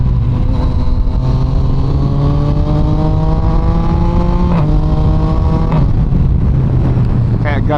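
Yamaha MT-09 motorcycle engine revving hard through quick-shifter upshifts, loud rising howls cut by brief shift breaks, recorded close over constant wind rush.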